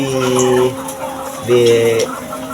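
Chickens in a poultry house give drawn-out, tonal calls twice, close and fairly loud, over a busy background of poultry noise.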